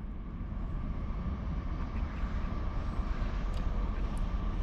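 A Norfolk Southern freight train rumbling past on the tracks, a continuous low heavy roar that holds steady throughout with a faint higher hiss, no talking.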